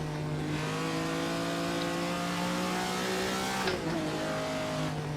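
An expensive car is driven around the Nurburgring, its engine holding a steady, loud drone from inside the cabin that dips and shifts briefly as the gears change partway through.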